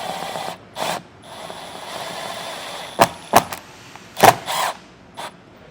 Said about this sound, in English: Now we can put our countersunk screws.